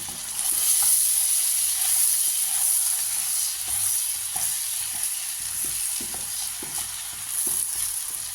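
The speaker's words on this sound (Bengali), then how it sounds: "প্রথমে আলুটা ভেজে নিচ্ছি, 1/2 চামচ নুন আর 1/2 চামচ হলুদ দিয়ে এটা ভালো করে ভেজে নিচ্ছি" Potatoes fry in hot oil with salt and turmeric, a continuous close hissing sizzle with occasional light stirring clicks.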